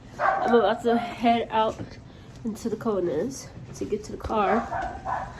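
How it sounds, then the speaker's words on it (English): A pet dog barks and yips repeatedly indoors in the cold Chicago winter, the barks coming in quick clusters under and between a woman's nearby speech. "So that's my dog barking."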